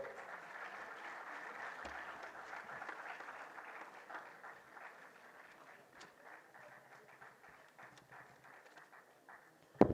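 An audience applauds at a medical college annual function in Bhopal, with dense, steady claps that gradually thin out and fade toward the end.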